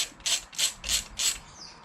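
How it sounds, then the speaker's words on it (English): Small hex head bolts being worked loose from side covers on a 1994 Triumph Sprint 900 motorcycle, heard as four quick, close ratcheting bursts in a steady rhythm, then a softer trailing scrape, with no talking. "these two covers here need to be removed, and in order to do that, there's 4 little hex head bolts"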